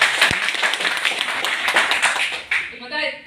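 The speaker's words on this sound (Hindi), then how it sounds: "इसलिए ये तालियां पहले से बज गई वेस्टेज के नाम पे" An audience at a business-plan seminar applauds in a dense, sustained patter of many hands close by, tapering off as a voice begins at the end.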